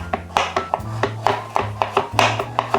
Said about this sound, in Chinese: 把红萝卜切条